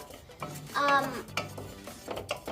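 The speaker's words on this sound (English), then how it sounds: "now we're gonna cook it until it gets brown, all these noodles" Noodles stirred in a frying pan while cooking for Lebanese lubee, close scraping and stirring strokes over a soft sizzle, with faint speech-like tones in the mix.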